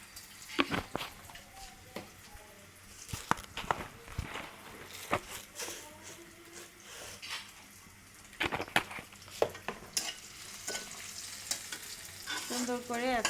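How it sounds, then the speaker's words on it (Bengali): Dal sizzling in hot oil in a home kitchen, with steady frying hiss under repeated stirring and clinking of a utensil against the pan. "আর ডালটা তেলে দিয়ে দিচ্ছি"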